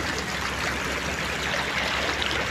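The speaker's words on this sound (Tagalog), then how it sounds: "Sa mababaw ng ilog dito mga kabayan oh." A shallow river flows in a continuous, dense rush and babble of water close by, steady throughout with no voices.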